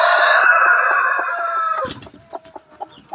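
Rhode Island Red chickens clucking and calling close by: a sustained chorus of overlapping chirps gives way to a few separate, sharp clucks near the end.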